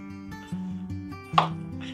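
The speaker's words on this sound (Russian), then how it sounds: "Сейчас мы картошечку порежем." A knife cuts through peeled potatoes in a kitchen with several rhythmic, close chopping thuds on a board, each followed by a short pause, with no talking.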